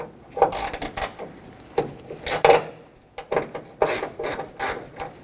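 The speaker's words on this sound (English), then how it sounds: "I'm going to break free the two bolts that are on the hood first. They're 12mm in size." A wrench ratchets and clicks while breaking free the 12mm hood hinge bolts on a Toyota Tacoma, heard as several loud, close bursts of mechanical clicking with short pauses between them.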